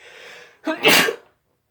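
A single sharp sneeze: a short inhaled gasp, then an explosive burst that cuts off into silence. No talking.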